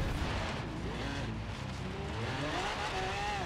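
Lamborghini Aventador engine in the Forza Horizon 3 racing game, a loud, dense roar with a rising rev toward the end, steady throughout the short stretch.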